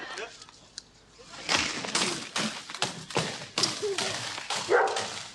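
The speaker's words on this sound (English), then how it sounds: "A dog. A dog barking, June." A dog barks repeatedly in short, loud bursts with thumps and shuffling around, nearby indoors, with voices mixed in.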